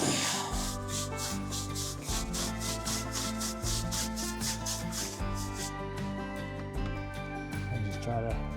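Tires on a 2024 Chevy Colorado ZR2 get scrubbed during a wash, a brush making a regular run of close, rasping back-and-forth strokes over a steady tonal background.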